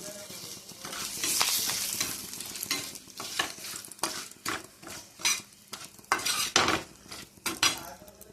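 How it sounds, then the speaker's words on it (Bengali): Black cumin seeds, dried chili and bay leaf tempering in hot oil on a flat pan crackle and sizzle steadily, with a string of sharp spatula scrapes and clinks against the metal toward the end, close and fairly loud. "চাটুতে দেব কালো জিরা ফোড়ন, লঙ্কা, তেজপাতা"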